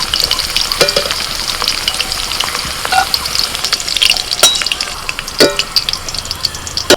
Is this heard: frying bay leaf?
yes